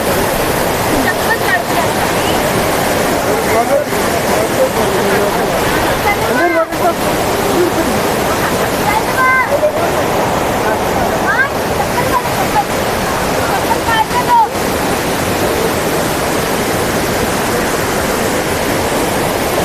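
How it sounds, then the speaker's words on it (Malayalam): Loud, rushing water roars without pause, close and powerful, with voices faintly audible beneath the torrent. "എന്തൊരു ഉയർത്തുന്ന വെള്ളം വരുന്നു"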